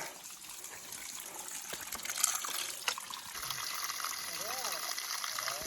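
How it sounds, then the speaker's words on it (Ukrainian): A small spring-fed stream trickles and gurgles softly outdoors, a faint, continuous watery patter with a brief louder splash near the middle. "Типу ми кажемо, що джерело, але по факту це десь якийсь просто струмочок."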